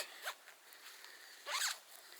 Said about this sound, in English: with the zippers, it's nice, like I said earlier, how far down they come for dumping heat